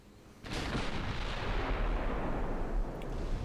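Battleship guns fire during close-range naval combat in a dreadnought video game, with a sharp boom at the start that swells into a sustained, heavy rumbling roar.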